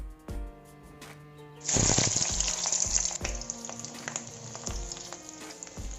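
Onions dropped into hot oil with caramelising sugar, for a broiler chicken and ash gourd curry, set off a sudden loud hiss of frying that keeps sizzling steadily, with light spoon knocks, close by and with no talk.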